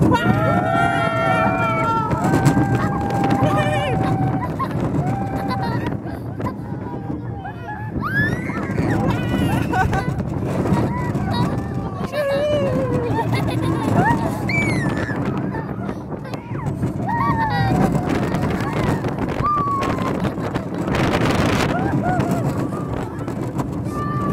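A roller coaster ride at Kolmården, with a constant rush of wind and rumble under excited shouting, squeals and talk from the riders, some of it near the microphone.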